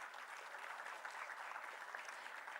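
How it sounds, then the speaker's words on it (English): A welcoming round of applause from an evening ceremony audience, an even wash of many hands clapping, heard fairly faint and a little distant, with no speech. "please welcome with a big round of applause our chief guest today"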